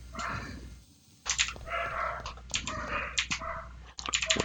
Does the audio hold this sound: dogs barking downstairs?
yes